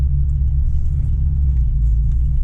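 A first-generation Toyota 4Runner engine rumbles loud and close as the truck crawls over slippery off-road ground, its steady low drone holding even throughout.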